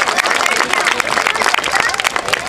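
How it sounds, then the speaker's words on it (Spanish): Studio audience at a Radio Imagen Hernando broadcast applauding for Johnny, a dense, steady wash of clapping with crowd noise filling the whole stretch, close and loud. "¡Aplauso fuerte para Johnny!"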